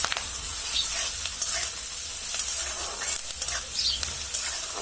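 Fresh, moist onion sizzles steadily in a pan for brinjal and potato bhaji, with a spoon stirring through it in irregular scrapes. The frying is loud, close and continuous, with no talking.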